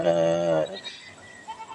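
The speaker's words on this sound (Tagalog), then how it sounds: "Nakawala yung kambing nila mga pangga" A single loud, wavering goat bleat up close, followed by faint rustling and soft background noise.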